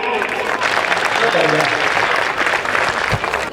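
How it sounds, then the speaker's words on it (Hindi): Audience at a comedic Hindi poetry recital, largely women, clapping hard for themselves: a loud, full burst of applause that holds through the clip, with a voice faintly audible beneath the clapping. "एक बार आप दोनों हाथ उठा के अपने लिए जोरदार तालियां बजाइएगा।"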